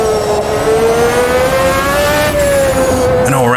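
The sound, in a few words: F1 race car downshifting through gears in video game Automobilista 2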